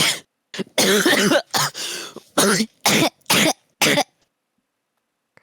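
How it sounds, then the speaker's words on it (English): A string of harsh, raspy coughs in quick bursts, close to the listener, with short pauses between them and a throat-clearing quality. "I did not have this cough when the day started."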